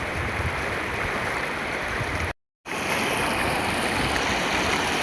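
A river in heavy flood flows past with a loud, unbroken rushing roar, cut by a brief silent gap in the middle before the torrent resumes.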